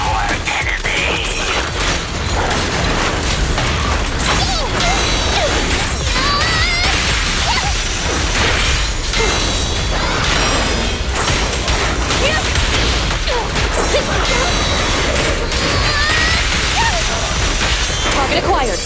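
Heavy weaponry of the armored Typhoon Challenger unit fires in Zenless Zone Zero combat, a relentless barrage of loud crashes, booms and whooshing impacts layered with game effects and music for the whole stretch.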